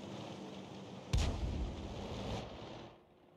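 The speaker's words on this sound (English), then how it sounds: "Shells are just exploding and tanks are going up" In a tank battle game, a 105 leFH18B2 artillery gun fires one sharp, heavy blast, and a rumbling boom follows that fades out after about two seconds.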